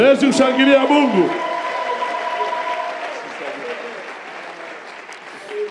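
A church congregation at a sermon breaks into applause and cheering acclaiming God, a loud burst of clapping and voices that quickly swells, then fades into a long, softer patter of hands.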